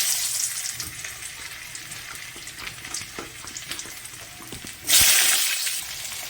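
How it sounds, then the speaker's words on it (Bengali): Potatoes fry in hot oil with bay leaf and cumin for a cabbage curry, a soft crackling sizzle with scattered scraping, then a sudden louder hiss near the end as more goes into the pan, close, no voices. "এবার আমি আলুগুলো দিয়ে দিচ্ছি।"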